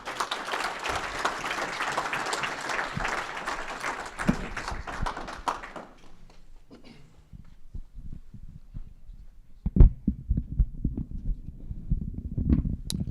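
Audience applause welcoming a speaker at a talk on the champion mindset, dense clapping filling the room for about six seconds, then dying away into scattered claps, footsteps and stage shuffling.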